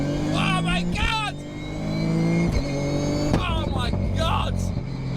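Toyota GR Yaris running a cal 4 anti-lag setting revs hard in loud bursts, engine pitch climbing, dropping and climbing again, with sharp pops as the throttle lifts and a voice talking over it.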